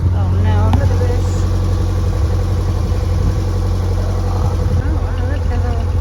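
Canal narrowboat engine runs at a steady idle-like throb, a constant low mechanical drone continuing under a person talking throughout.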